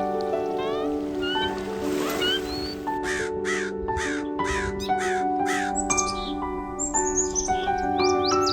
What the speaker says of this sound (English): Your Discovery Park bird mix is here.